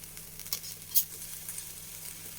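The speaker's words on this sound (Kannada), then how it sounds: "ಈಗ ಇದು ಕರೆಕ್ಟಾಗಿ ಫ್ರೈ ಆಗಿದೆ ಈಗ ಇದಕ್ಕೆ ಸ್ವಲ್ಪ ಟೊಮೆಟೊನ ಸೇರಿಸ್ಕೊತೀನಿ" Chopped tomato added to oats frying in a pan, with a faint, soft sizzle and a couple of light stirring scrapes.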